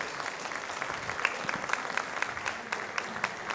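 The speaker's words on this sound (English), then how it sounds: "Ladies and gentlemen, one more round of applause" Fairly quiet applause from an audience at a People's Party of Canada event, honouring a speaker, with a few distinct nearer claps standing out over the soft, even patter.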